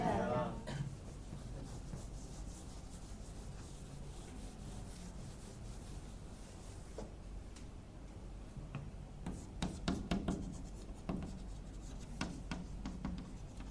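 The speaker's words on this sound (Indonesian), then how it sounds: "Ini saya hapus ya." A whiteboard is wiped clean during a digital electronics lesson, with soft scraping rubs, scattered taps and clicks, and occasional quiet voice sounds in a room.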